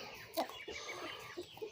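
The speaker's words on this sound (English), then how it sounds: "It's the sound of happy chickens." Soft, scattered clucking from a few chickens nearby, short throaty calls coming in an uneven patter.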